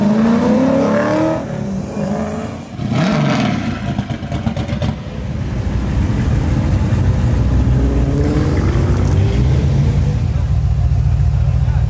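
A wide-body 1965 Ford Mustang with a Coyote V8 of about 540 horsepower and a six-speed manual rumbles loudly while cruising at a custom car gathering, a continuous deep engine drone with a brief dip and surrounding traffic noise.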